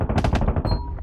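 Fast automatic weapon fire from the space shooter game Boundary, a loud, close burst of rapid repeated shots lasting about a second before a faint tail.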